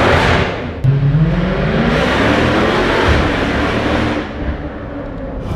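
A car with a full Armatrix decat exhaust system revs loudly and close, the engine rising and holding a harsh, raspy roar before dropping off toward the end.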